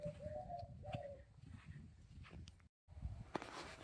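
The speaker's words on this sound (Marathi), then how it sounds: "पक्ष्यांचा आवाज आपल्याला ऐकायला येत असेल" Birds call and coo faintly in a home garden with flowering hibiscus beds, a few soft repeated notes early on over quiet outdoor background, with a brief dropout near the end.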